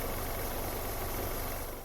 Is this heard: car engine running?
yes